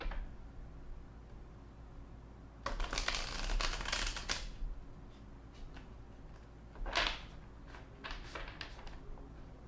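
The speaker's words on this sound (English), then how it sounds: "let's shuffle some tarot cards to see how your twin feels about you" Tarot cards are shuffled up close in two brisk riffling bursts, the second shorter, with soft taps and rustles between and quiet stretches around them.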